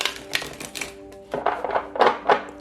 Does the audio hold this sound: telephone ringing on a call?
no